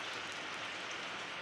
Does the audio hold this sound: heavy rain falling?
yes